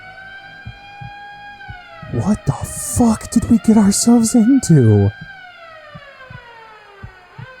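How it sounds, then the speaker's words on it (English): Police sirens wail with slowly sliding tones, a steady rising and falling drone with a throbbing heartbeat-like pulse beneath, while someone speaks over it in the middle. "The sirens are getting louder."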